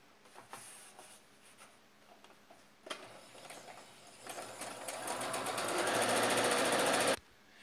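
A sewing machine stitches a men's shirt collar, starting with scattered clicks and short bursts, then running in a fast, steady rattling stitch that builds louder before stopping abruptly.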